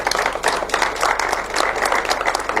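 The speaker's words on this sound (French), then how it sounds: "si vous voulez bien donner quelques applaudissements" Audience at a debate gives a round of applause, steady crowded clapping throughout at moderate loudness, close and continuous with a low hum beneath.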